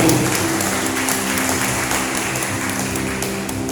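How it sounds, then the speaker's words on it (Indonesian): Steady applause from a church congregation during a worship service, a loud, continuous dense patter of many hands with a low sustained tone underneath. "Tepuk tangan dari Tuhan."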